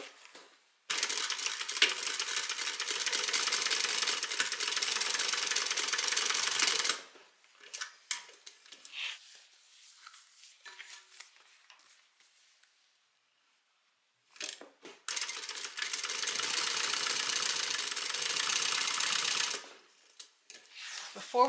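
A sewing machine top stitches a bag seam in two long runs of rapid, even needle clatter, about six seconds each, separated by a quieter stretch of small handling noises, close and clear with no talk.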